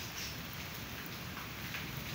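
Steady rain falls in a rural outdoor setting during the rainy season, a dense, even hiss of drops on surfaces, close and continuous with no voices.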